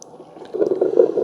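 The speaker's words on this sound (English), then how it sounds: "So we can hear it starts brewing right away." A Ninja CP301 hot and cold brewed coffee and tea maker starts to brew, giving a soft, steady gurgling, bubbling water sound that grows louder partway through and continues alone.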